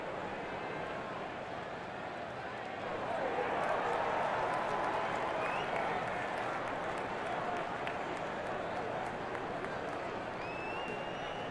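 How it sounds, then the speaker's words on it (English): A baseball crowd at Angel Stadium chanting MVP, a dense, continuous roar of many voices that swells slightly partway through, with a commentator talking over it. "as the crowd is loudly now chanting MVP"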